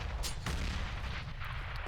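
Grenade explosions in Counter-Strike on the Inferno map during a competitive Envyus versus Astralis match: a couple of sharp blasts early on over a steady bed of game noise.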